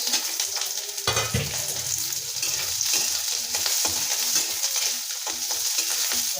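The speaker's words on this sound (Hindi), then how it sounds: "प्याज को थोड़ा सा पकने देते हैं" Onion fries in a pan with garlic already in, a steady loud sizzle with scattered crackles and occasional stirring scrapes throughout.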